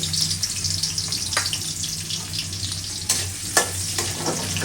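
Onions fry in a wok on a stove for a chicken curry, a constant close sizzle with scattered clinks and stirring scrapes over it.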